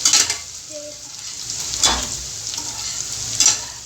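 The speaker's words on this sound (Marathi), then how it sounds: "तर ह्याला थोडंसं आपण फ्राय करू तर आता कांदा बऱ्यापैकी फ्राय झालेला आहे" Chopped onion, green chili and curry leaves fry in hot oil in a pan, a loud, steady sizzle with bursts of crackle as the mix is stirred.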